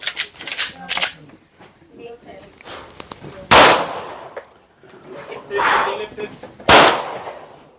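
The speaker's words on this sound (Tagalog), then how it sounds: "If you're ready, commence firing!" Gunshots at a shooting competition, sharp loud cracks spaced a few seconds apart, with faint background chatter and voices between the shots.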